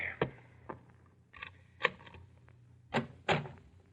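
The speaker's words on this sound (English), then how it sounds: "a persistent pounding on the bedroom door awakes you" Persistent pounding on a bedroom door as a radio drama sound effect: about six heavy, uneven thumps in irregular bursts, close and loud over a faint steady hum.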